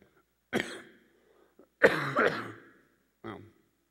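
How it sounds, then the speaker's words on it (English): A lecturer coughs and clears his throat during a geology talk, several separate bursts close to the microphone with quiet gaps between them. "Look at the fish while I cough a little bit here."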